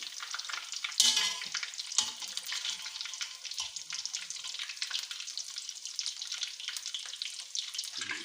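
Koftas frying in oil as they are gently turned over, a soft, continuous crackling sizzle with occasional clinks and scrapes of a spoon against the pan, quiet and without talk.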